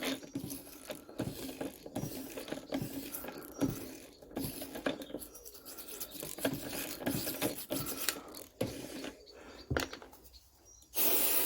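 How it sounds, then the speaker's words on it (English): Stator windings and stator ring on a Lister generator are cleaned, making quiet, uneven rasping and scrubbing strokes with scattered scrapes and ticks nearby. "Oh yes, we're certainly cleaning all them windings up. All that stator ring."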